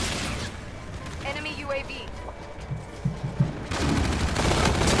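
Rapid gunfire in Call of Duty: Infinite Warfare, with scattered shots before a loud, dense burst of firing at the end, alongside an in-game voice announcement and a player talking.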